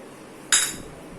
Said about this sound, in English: So please add the almonds.